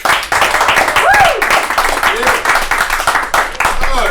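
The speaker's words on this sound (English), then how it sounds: "Give a round of applause to Aaron Burzak." Audience applause for a comedian taking the stage at a live comedy show, loud clapping from a small crowd with whoops and cheering voices mixed in, continuous throughout.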